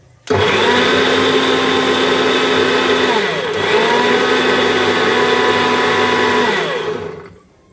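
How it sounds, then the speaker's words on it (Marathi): A mixer grinder whirs steadily as mango juice blends for a special mango pulp and puri meal, a loud continuous motor drone with a brief dip in pitch midway before spinning back up and cutting off near the end. "आता रस लगेच ह्याच्यामध्ये टाकून मिक्सरला फिरवून घेऊया."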